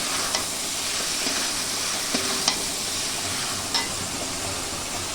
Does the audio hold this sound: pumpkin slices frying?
yes